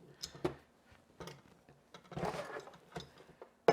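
A left-hand threaded Foredom flexible shaft being twisted loose by hand, a handful of close, sharp mechanical clicks and scraping rattles spaced unevenly, with a louder knock at the end.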